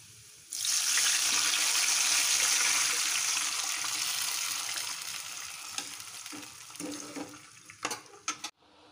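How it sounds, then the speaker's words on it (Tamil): Tamarind extract poured into a hot pan for temple-style puliyodharai sets off a sudden loud sizzle that slowly settles, followed by a few stirring clinks and splashes. "புளி கரைசலை இப்போ சேர்த்துக்கலாம்."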